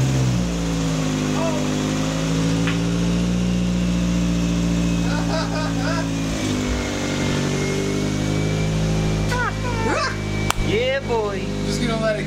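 A dry-primed engine, just started for the first time, runs loudly and steadily close by with a rough harmonic drone and shifting revs, while excited voices and a dog's barks rise over it toward the end.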